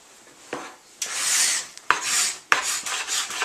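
Close, rasping strokes of hand scrapers dragged across a new hardwood floor to distress it, coming in several bursts with short pauses between them.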